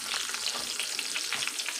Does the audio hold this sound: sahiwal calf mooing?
no